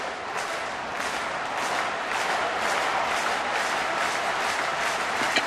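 A stadium crowd at a baseball game roars steadily, with a broad continuous wash of voices and faint rhythmic pulses of a chant running through it, loud and sustained throughout.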